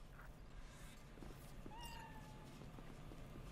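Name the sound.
cat meowing in the video game Cyberpunk 2077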